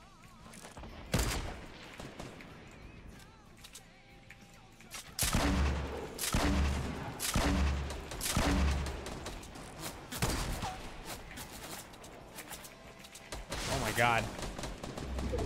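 Heavy gunfire in PUBG, rapid bursts and loud booming shots from nearby with more firing farther off, while players talk and exclaim over it.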